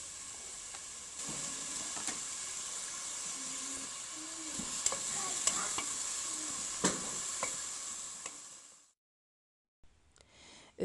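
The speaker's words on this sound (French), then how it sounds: "J'ajoute les oignons." Onions sizzling in about two tablespoons of olive oil in a pot over medium heat, a steady close frying hiss with occasional stirring scrapes, cutting off abruptly near the end.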